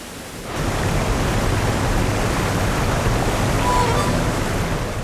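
Heavy rain falls in a wet-season wilderness during salmon season, a steady, dense roar of noise that swells in after half a second and stays loud throughout with no distinct thunderclaps.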